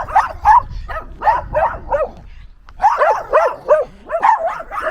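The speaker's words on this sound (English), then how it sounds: "I don't know why you're barking" Several dogs bark in repeated bursts of yips and woofs, loud and close, with a short pause midway before the barking picks up again.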